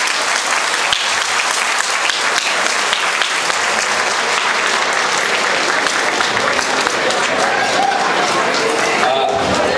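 An audience at a dental congress award ceremony at Golden Sands applauds steadily, a dense, even wash of many clapping hands sustained throughout, a few voices faintly audible within it.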